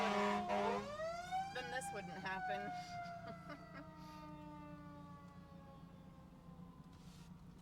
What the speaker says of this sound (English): Yeah, that's the EMT and the fire truck.